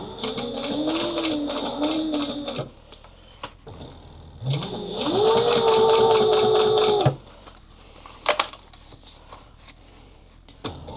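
A sewing machine stitches a clutch wallet in two bursts, one short and one longer run of several seconds, stopping between them to pivot at a corner. The machine is close and clear, with quiet handling noises and small clicks in the pauses.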